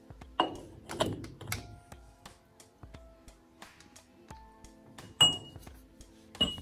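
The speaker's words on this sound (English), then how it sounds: "We're gonna torque this outer nut down to 50 foot-pounds." Torque wrench with a big socket tightening the outer nut on a Willys Jeep wheel spindle to 50 foot-pounds: sharp metallic clicks and clinks in a few separated bursts, close by, with quiet gaps between.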